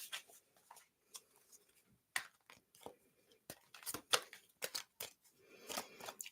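Holographic Rider-Waite tarot cards are shuffled by hand during a card reading, giving quiet, close, irregular bursts of papery riffling and slapping separated by brief pauses, with no talking.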